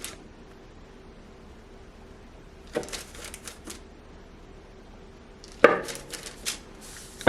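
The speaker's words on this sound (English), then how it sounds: "now I'm supposed to take a knife and cut these into cookies" Knife slicing through fig bar dough on a cutting surface to portion cookies, two short bursts of cutting and tapping, close and fairly quiet, separated by stretches of near silence.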